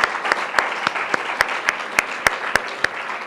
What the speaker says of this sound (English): give a round of applause to our panelists tonight